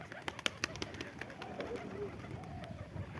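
Pigeons offered for sale coo softly in the background, with low rumbling calls mixed among scattered clicks and movement noises in a busy outdoor setting.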